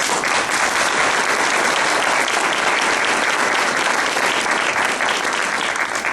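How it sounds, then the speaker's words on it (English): An audience at a youth awards ceremony gives sustained, dense applause, loud and steady throughout with no talking over it. "So give yourselves a round of applause."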